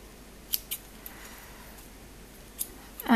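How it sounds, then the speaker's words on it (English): Scissors trimming excess crochet yarn give a few faint, scattered snips at close range over quiet background, with no voices. "Scissors are going blunt."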